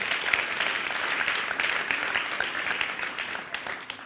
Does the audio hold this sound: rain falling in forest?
no